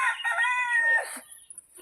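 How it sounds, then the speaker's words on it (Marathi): A farm rooster crows once nearby, a loud, strained, wavering call that trails off into a brief cluck. "तो आमचा कोंबडा."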